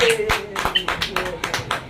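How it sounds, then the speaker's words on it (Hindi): Church congregation clapping loudly for the Lord at a Christian testimony service, rhythmic claps in steady bursts, with a voice speaking over them. "प्रभु के लिए जोरदार ताली बजाएं।"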